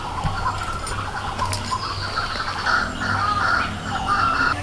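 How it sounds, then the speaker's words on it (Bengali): Several birds chirp and call on a hot rural morning near an outdoor cooking spot, short bright calls repeating over steady ambient background, moderately close, with no talking. "কত পাখি ডাকতে দেখছেন"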